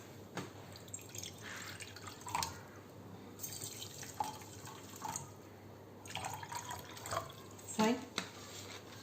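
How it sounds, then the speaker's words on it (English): Water drips and splashes into a beaker in uneven spurts, fairly faint, with soft handling sounds. "I am just adding water to it."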